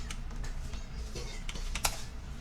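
Typing on a computer keyboard while working on Laravel code, a string of light, irregular key clicks with a slightly louder tap near the end, close and alone.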